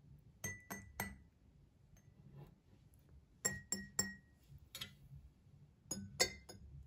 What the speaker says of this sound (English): when the glass has the most water, it makes the loudest sound when I tap it